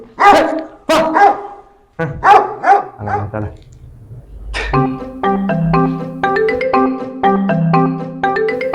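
A dog barks in a quick series of loud, close yaps that break off, then a tonal musical background comes in and continues beneath.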